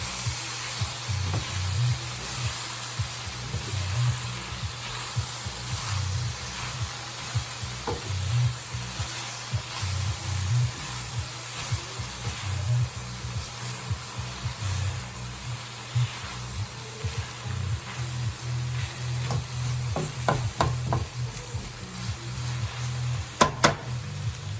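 Thanksgiving side dish ingredients sizzle steadily in a pan as they are mixed together, a continuous frying hiss with soft stirring scrapes and a few sharp clicks near the end, no talking.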